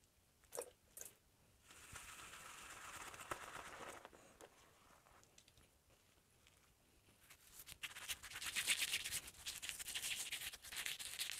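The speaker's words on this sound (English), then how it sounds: "Let's load up the brush and see what we're working with." Soft wet swirling and brushing as a shaving brush loads Kilix shaving soap by Los Jabones de Joserra from the puck, quiet and close with intermittent squishy strokes and no talking.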